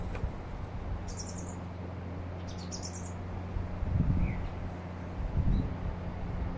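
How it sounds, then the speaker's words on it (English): Faint chirping birds call a few times in the distance in a garden over a steady low background hum, with occasional soft low thumps. "you can hear the birds in my garden"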